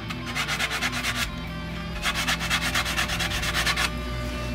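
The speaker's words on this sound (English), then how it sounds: "I'm gonna go hit it on the grinder to smooth it out." A grinder smooths the edge of a kydex sheath in two bursts of rapid, rhythmic rasping strokes, separated by a short pause, fairly close and moderately quiet with no talking.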